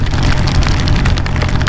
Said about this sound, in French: Il grêle carrément.